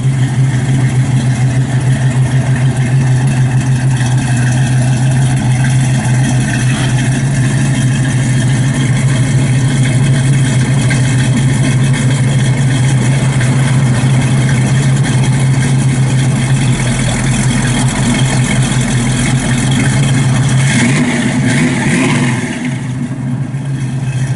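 A 1967 Chevrolet Camaro with a 350 V8 and 700R4 transmission, heard from behind at the exhaust, idles with a loud, deep, steady rumble throughout, swelling slightly into a brief rev near the end.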